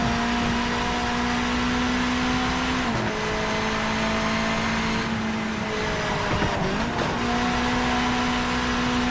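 A race car in Project Motor Racing drives a warm-up lap with a loud, steady engine drone. The pitch drops briefly twice, as if for gear changes or lifts, then holds again. No voices are heard.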